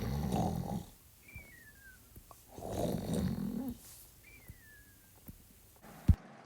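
A cartoon bear sleeps and snores loudly in two long, rumbling, growly breaths with quieter gaps between them and a brief whistly squeak. A sharp thump comes near the end.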